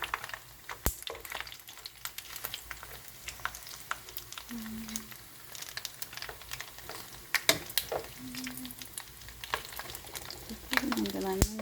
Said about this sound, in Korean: 기름이 남아서 지금 다 튀기고 있습니다